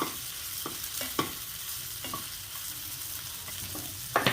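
Moong dal kola balls crisp in hot oil with a steady, close sizzle, broken by several short scraping clicks from stirring.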